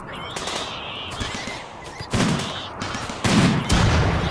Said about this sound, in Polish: Za chwilę tutaj się zacznie strzelanina.